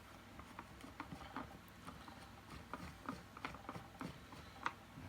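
Screws are undone on a Numatic Henry HVR200 vacuum cleaner during a restoration, a quiet, close series of small ratcheting clicks and light scrapes from a screwdriver turning, with no talking.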